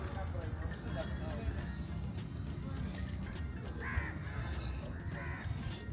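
Crow cawing in the open air at a night street food market, heard as a few short calls over the constant murmur of the crowd and a talking voice.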